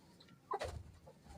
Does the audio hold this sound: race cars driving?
no